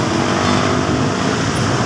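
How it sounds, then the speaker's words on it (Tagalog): Traditional jeepneys in Iloilo City traffic: a dense, loud wash of engine noise and roadway roar from nearby vehicles, continuous for the whole stretch with no pause. "Ayan yung mga tradisyon ng jeep."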